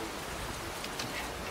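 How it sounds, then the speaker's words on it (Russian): Steady rain falls over a square with fountains in Stavropol, a dense even hiss of drops spread across the whole clip with no voices. "В общем, дождь такой недолгий был"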